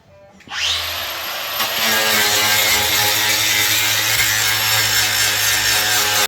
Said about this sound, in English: So I'm just busting all the rust off so that when we bolt this up tight